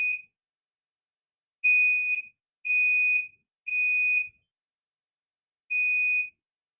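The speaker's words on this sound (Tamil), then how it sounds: "இது ஒரு ஃபயர் அலாரம்" A fire alarm in an indoor room gives out a series of steady, high-pitched electronic beeps, with five separate tones spaced unevenly and silence between them.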